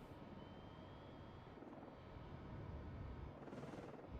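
A low, continuous aircraft engine drone rumbles in the Cold Waters submarine game as an aircraft drops a weapon, steady and fairly distant with a faint swell toward the end.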